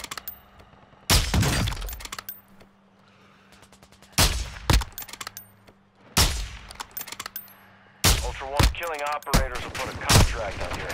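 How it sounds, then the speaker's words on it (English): Gunfire in a Call of Duty DMZ night match comes in several loud, sharp bursts separated by quiet gaps, with rapid fire and a rattling, shattering quality in the later volleys. "They got shot from southwest."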